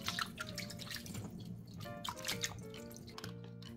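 Water drips from boiled butterbur stalks as they drain after a cold-water rinse, a steady patter of close, small droplets with faint trickling and no talking.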